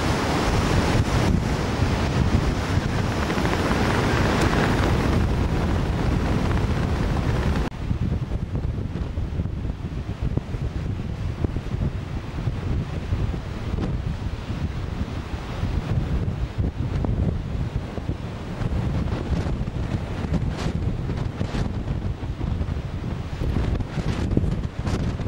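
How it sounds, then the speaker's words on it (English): Strong coastal wind roars steadily at the Twelve Apostles along the ocean shore, buffeting the microphone over the wash of surf and heavy rain, loud and continuous throughout with no voices. "It's very windy."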